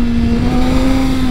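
A motorcycle engine under steady throttle, with traction control active, gives a loud continuous drone with a strong steady tone, close and unbroken over a short stretch.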